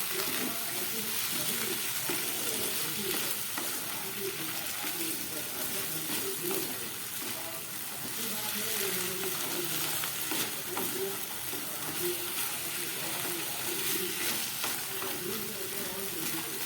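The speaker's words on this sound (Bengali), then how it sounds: "মশলাটা ভাজার জন্য জলটা দিলাম" Spices and boiled peas frying in a pan with a splash of water for ghugni, a continuous moderate sizzle broken up by frequent stirring scrapes and clinks.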